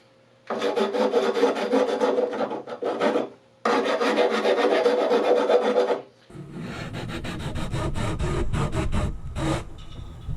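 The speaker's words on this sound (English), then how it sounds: "We variously use sanding sponges, chisels, and files to get the rough edges removed" Harsh rasping strokes of a file and sanding sponge against cured mortar, in long sustained bursts with short pauses, then quicker scraping strokes, close up.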